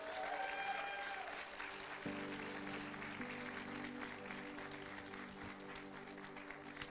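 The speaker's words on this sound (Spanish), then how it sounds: "Denle un aplauso al Señor fuerte." Church congregation applauding during a sermon, a steady wash of clapping that continues throughout, with sustained organ or keyboard tones sounding underneath.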